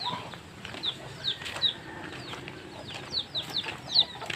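Tethered backyard chicken in a vegetable garden, giving short scattered clucks and squawks at close range over faint outdoor background noise.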